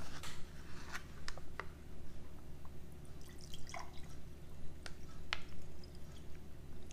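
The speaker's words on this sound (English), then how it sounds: "We're just gonna pour it on out." Lemon lime MRE drink mix poured from its pouch into a glass makes close, intermittent liquid splashes, drips and crinkly plastic sounds over a steady low background hum, with no talking.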